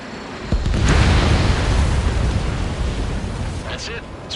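An enemy bomber blows up in the Ace Combat 7 flight game, a loud booming blast that swells in at once and rolls on as a long noisy rumble under game radio chatter.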